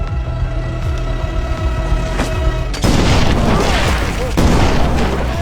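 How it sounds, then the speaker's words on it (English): A landmine explosion in a war film, a heavy booming blast that erupts midway through a rumbling, tense soundtrack and is followed by a second loud burst, close and powerful, with some speech underneath. "The landmine explosion triggered a chain reaction."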